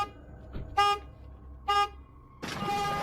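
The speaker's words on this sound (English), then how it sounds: "the car alarm goes off" A car alarm sounds at night in a quiet neighborhood, loud horn honks with two short blasts followed by a longer sustained blare.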